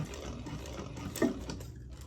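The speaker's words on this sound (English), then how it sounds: "Pull it to that mark and just sew off the piping." Sewing machine stitching off the end of fabric piping, a steady close mechanical whir running alone for about two seconds with a slight bump near the end.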